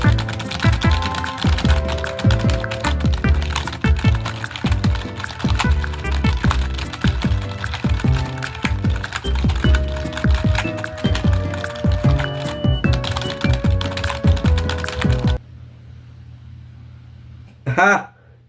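Rapid computer keyboard typing runs steadily under a loud musical bed, keys clattering densely before a brief near-silent gap and a short burst at the end.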